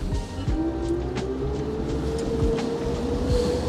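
A Highfield Patrol 540 RIB's engine shifts into forward gear and starts moving off at sea, a steady close hum with a rising tone over water and wind.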